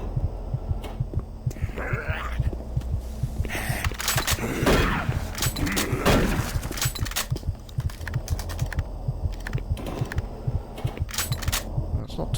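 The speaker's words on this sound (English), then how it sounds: "Where's that heartbeat coming from?" A dull, steady heartbeat pulse from the 2004 video game Doom 3 throbs underneath bursts of gunfire and clattering game effects, the low thumps persisting while sharper noises come and go.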